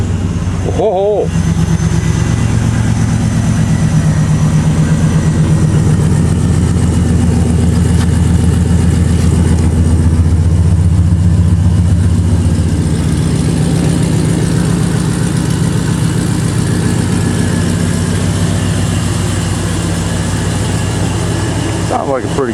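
Car engine running loud and steady just after a cold start, a heavy continuous rumble throughout with people talking over it.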